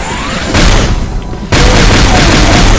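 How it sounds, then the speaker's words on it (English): The super shotgun in Doom 2 fires twice in quick succession, each blast a loud, broadband boom that fills the clip, separated by a brief quieter gap. "The super shotgun."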